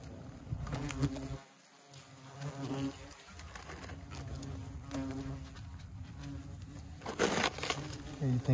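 Bald-faced hornets buzz close by as they try to escape their nest, with crackling and crushing noises mixed in and a voice speaking at times.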